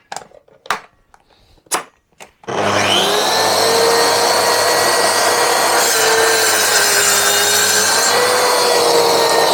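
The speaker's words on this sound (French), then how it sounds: "Je mets l'inciseur, je coupe." Mafell MT55 plunge saw with a 32-tooth blade and scoring blade cutting melamine board, a few sharp knocks first, then a loud, steady high-pitched whine of the blade biting through the panel for several seconds, close and alone.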